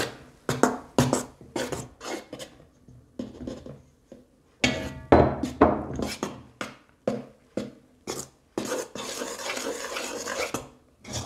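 Utensil scraping and knocking against a bowl as flour and baking powder are stirred into homemade cake batter, a steady run of clinks and scrapes with short pauses, close and fairly loud.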